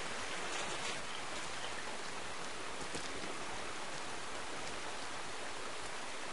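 Steady, dense rainfall hisses without pause in the video game Rain, an even wash of drops striking surfaces with no other sounds.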